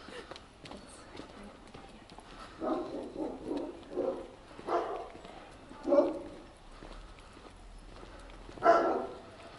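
A big dog barks several times on a mountain hiking trail near Marbella, the sharp, loud barks arriving in an irregular series over background outdoor noise.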